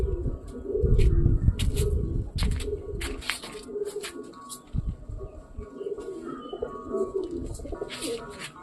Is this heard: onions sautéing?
no